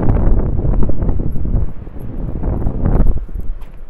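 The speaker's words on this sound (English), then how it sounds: "I'm sure you can hear that wind." Heavy wind buffets the microphone in continuous low roaring gusts at Bridlington, loud and close, rising and easing without a break.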